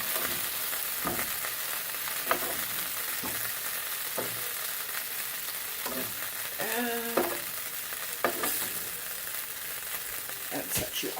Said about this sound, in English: Now I'm going to transfer them to my basket so that I can put them into hot oil